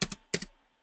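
Two quick pairs of keystrokes click on a computer keyboard, close and soft, with a brief pause between them.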